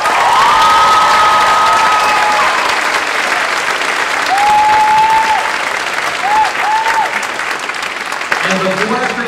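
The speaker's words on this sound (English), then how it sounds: "I'd love another round of applause for Mr. Stallings." A high school spring concert audience gives loud, sustained applause, a dense wash of clapping with scattered whistles and cheers that tapers slightly toward the end.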